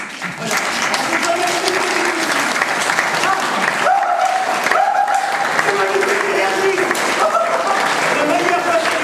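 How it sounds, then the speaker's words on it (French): Theatre audience applauding with dense, sustained hand clapping, while a performer's voice talks over the clapping. "ce bruit se manifeste par le rapprochement des deux mains"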